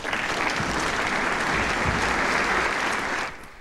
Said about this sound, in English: The leaders were greeted with applause during a White House ceremony this afternoon.